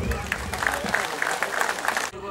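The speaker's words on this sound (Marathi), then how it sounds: "सर्वांनी टाळ्या वाजवून अभिवादन करूया" A crowd at the inauguration of a group's office in Koregaon applauds in tribute to Dr. Babasaheb Ambedkar, giving a dense, brief burst of clapping with a voice mixed in beneath it.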